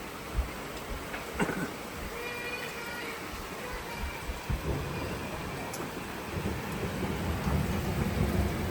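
Steady rain pours down in a continuous hiss, with a low rumble of thunder and scattered louder drips.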